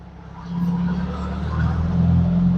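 A Jeep Comanche MJ pickup with a 2.5-liter four-cylinder and five-speed, driven for the first time in years, gives a low steady engine drone from inside the cab that swells slightly as it pulls.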